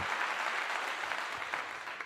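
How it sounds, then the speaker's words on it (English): Audience applause for coach Robert Livingston after a Colorado vs UCF game in 2024: a dense, steady wash of clapping that holds at an even level for about two seconds with no voices. "We got to give him a clap as well."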